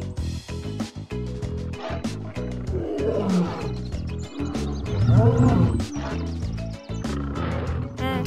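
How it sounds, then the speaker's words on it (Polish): Lion roars from a children's animated colour-learning cartoon, several deep rumbling roars rising and falling over about eight seconds, loud and close, mixed with background music and no speech. "To lew, a nie małpka."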